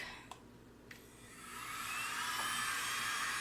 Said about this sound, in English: this is the world's smallest leaf blower